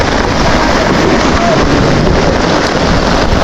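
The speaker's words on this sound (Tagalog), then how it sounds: "Ang lakas ng hangin. Lakas ko ng alon." Loud, blustery wind buffets the microphone over a constant rush of strong waves at Baseco, Manila, continuous and roaring throughout.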